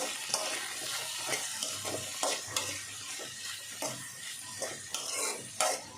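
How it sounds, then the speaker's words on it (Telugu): Cucumber pieces frying in oil in a pan, giving a soft continuous sizzle broken by regular scraping stirs and light utensil knocks, close up, with no voices. "బాగా ఫ్రై చేసేసుకోవాలండి ముక్కల్ని, దోసకాయలన్నిటిని."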